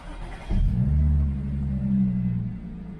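An Audi B8 S4 engine cranks briefly and catches into a deep, close idle rumble that settles into a steady low drone after a short rev; no voices.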